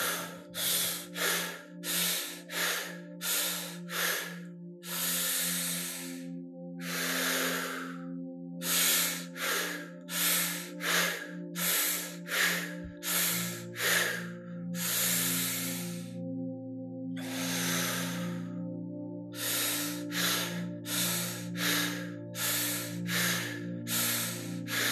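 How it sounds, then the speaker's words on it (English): Guided breathing exercise, a long deep breath followed by sets of short breaths, close and clear, repeating in a steady rhythm of drawn-in and pushed-out breaths over a low sustained background tone, with no talking. "it's 1 long breath, 4 short breaths"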